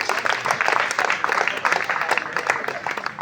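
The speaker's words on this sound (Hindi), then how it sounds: "जोरदार तालियों से इनका स्वागत करते" A hall audience gives dense, sustained applause to welcome a guest onto the stage, loud, steady clapping filling the whole stretch with no break.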